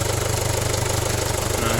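Diesel engine of a 2009 Ford Everest TDCi with a failed turbo, revving lightly: a steady, close mechanical drone with a dense knocking rumble, held evenly throughout.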